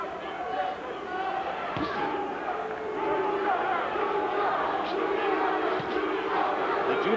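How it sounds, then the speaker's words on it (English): Boxing arena crowd at the Zab Judah vs Cory Spinks fight, a loud sustained roar of chanting and booing that swells and rolls on throughout, with scattered shouts rising from the mass of voices. "The Judah fans in the crowd trying to chant for their man"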